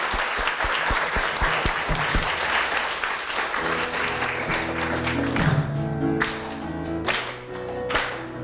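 A church congregation claps loudly and steadily in sharp, even rhythm, then organ or keyboard music rises beneath the applause as it carries on.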